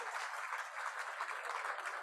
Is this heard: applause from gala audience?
yes